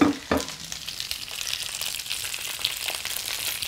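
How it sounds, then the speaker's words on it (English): Fresh asparagus fries in melted butter in a pan, hissing and sizzling steadily at close range, with a sharp burst of crackle at the start and soft stirring scrapes throughout. "So we've got some butter melting, and we are going to go ahead and put our fresh asparagus in there."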